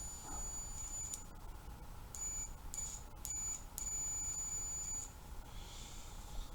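Steady electronic beeps from a continuity tester on a 1972 Bally Fireball pinball machine, sounding in several short and long bursts with gaps, moderately loud over a low background hum.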